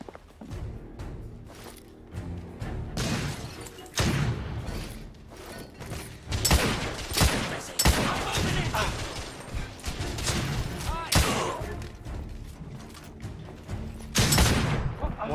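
Shotgun blasts from enemy fighters in The Order 1886, booming in a dense, overlapping fusillade of loud shots and impacts alongside other gunfire, with a voice talking over the battle.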